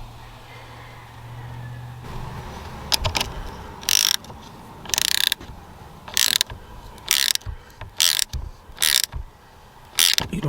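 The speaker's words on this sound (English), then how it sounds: "go ahead and torque that down" A ratchet wrench clicks in short repeated bursts while tightening the positive battery cable terminal on a 2014 Ford Edge, several loud close ratchet strokes separated by pauses, no talking.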